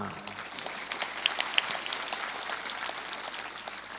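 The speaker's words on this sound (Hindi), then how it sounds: "ये तो यहाँ ताली बजाने की हम ट्रेनिंग देते हैं" An audience at a religious discourse claps steadily together, a dense and moderately distant patter of many hands.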